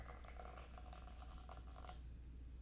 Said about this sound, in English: we're pouring water directly on the leaves